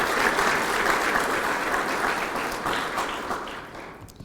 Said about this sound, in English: Let's have one more round of applause for all of our Sullivan Scholarship recipients.